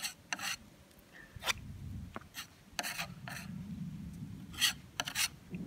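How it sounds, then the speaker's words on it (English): Wood filler is pressed and smeared into a timber garden gate on a warm day, giving quiet scraping and rubbing strokes in irregular bursts with soft dull knocks between them. "get the filler to actually stick to the timber"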